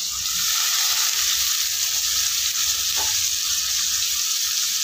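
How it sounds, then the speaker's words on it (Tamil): Finely chopped large onion sizzling in hot oil in a pan for Chettinad chicken sukka, a steady loud frying hiss throughout with a faint stir, no talking. "ஒரு பெரிய சைஸ் வெங்காயத்தை எடுத்து பொடியாக நறுக்கி வச்சுருக்கேன்,"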